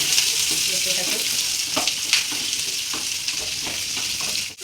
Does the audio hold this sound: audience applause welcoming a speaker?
no